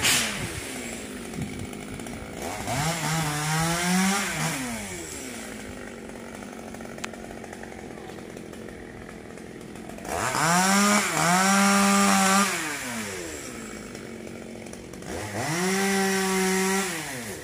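A chainsaw cutting a coconut tree revs up loudly three times, each burst whining and bogging as it cuts, with quieter idling between.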